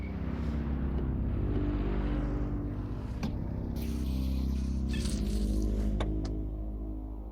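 A car drives in the game S.T.A.L.K.E.R.: Lost Alpha with a droning, tonal engine hum that swells and eases, broken by a few sharp clicks and knocks partway through.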